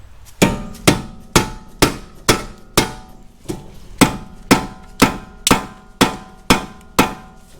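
Fourteen sharp metallic hammer strikes on an aluminum engine part from an Audi S4 B8.5, landing in a fairly even rhythm, each ringing briefly before the next blow, close and alone.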